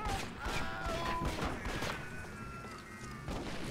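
Gunfire and a TNT blast in the Western shooter Red Dead Revolver, a quick run of sharp cracks and bursts close by that tails off into a brief rumble.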